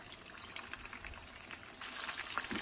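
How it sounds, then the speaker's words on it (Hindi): Chicken pakora batter dropped into medium-hot oil sets off a soft, fizzing sizzle that swells noticeably partway through, steady and fairly quiet with no talking. "इसी तरह बिल्कुल मीडियम हॉट ऑयल में हम इसको डालेंगे"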